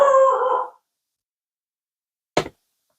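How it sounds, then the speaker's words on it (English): A dog howls and barks in a drawn-out, strained cry that fades within the first second. Silence follows, then a single short, sharp knock-like sound. "I'm so sorry about the dogs."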